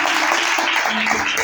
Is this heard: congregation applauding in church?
yes